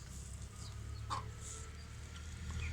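Backyard hens cluck in short excited bursts, close by, pecking over a handful of rocket greens in December, with a steady low hum beneath them.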